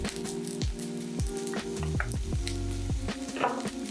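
Minced garlic and green onion whites frying in hot oil in a cast iron pan, a close, steady sizzle with crackles and scattered clinks and knocks from a utensil throughout.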